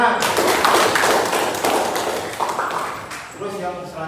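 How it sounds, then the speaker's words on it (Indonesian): A class in a history lesson breaks into clapping, a dense burst of claps that thins out toward the end, with voices heard over it. "Oke, tepuk tangan."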